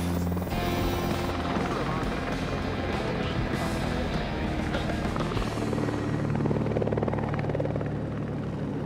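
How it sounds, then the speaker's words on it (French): A helicopter lifting off nearby, its rotor and engine roar filling the air in a dense, steady wash that swells slightly as it climbs away; a voice speaks faintly underneath. "C'est toujours spectaculaire de voir un hélicoptère décoller devant nous."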